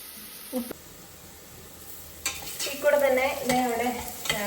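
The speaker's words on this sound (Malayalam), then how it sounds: "തേങ്ങ വറുക്കുന്നുണ്ട് കേട്ടോ" Grated coconut frying in a pan for a kappa (tapioca) biryani, with a soft stir and scrape followed by a steadily building sizzle and a few clinks of the spoon against the metal, up close.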